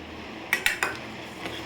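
A spoon scrapes and clinks against a kadai while jaggery is stirred into water, giving three quick metallic taps close together and a fainter knock after a short pause.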